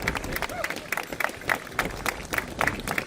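Audience applause for the winner at an awards ceremony for an Icelandic street-car quarter-mile drag racing championship, steady clapping with a murmuring crowd and voices over it.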